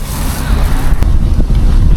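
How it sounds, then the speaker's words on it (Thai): Ordinary outdoor wind at a fishing campsite, loud steady buffeting and rumbling against the microphone with gusty low roar throughout. "เกิดลม ลมธรรมดานี่แหละผู้ชมท่านฟัง"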